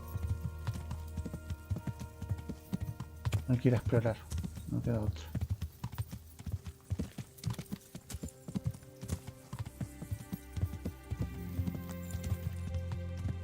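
In the video game Kingdom Come: Deliverance, a horse's hooves clop in a steady, rhythmic pattern close by, running under someone speaking Spanish.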